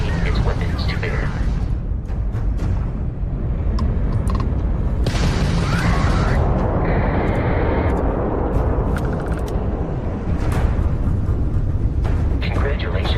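Starship combat in the Starfield video game, with a Crimson Fleet ship firing its weapons: dense, continuous rumbling blasts and booming impacts that roar steadily throughout.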